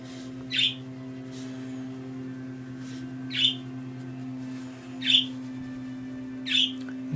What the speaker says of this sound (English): Thank you, whoever's chirping there.